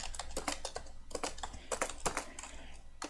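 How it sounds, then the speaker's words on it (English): Rapid, steady clicking of keys on a computer keyboard, close and fairly quiet, as someone types text during a live cardmaking session. "and get out my keyboard."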